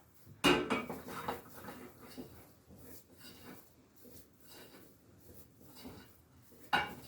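Eclair dough cooks in a pan on the heat, with a loud metallic scrape and clank of a utensil against the pan at the start and again near the end, and quieter stirring between.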